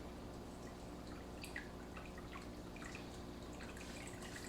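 Discharge water dripping steadily from an aquarium maintenance setup, a continuous close trickle with scattered brighter drops and splashes over a constant low hum.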